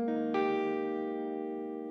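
An electric guitar with its volume rolled down to 4 rings through a VVT X-40 amp on a clean setting: a sustained chord, then a fresh strum that rings out and slowly fades, close and steady with no talking.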